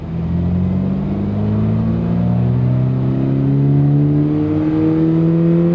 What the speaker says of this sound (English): Let's pull onto the highway so we can hear what this thing sounds like.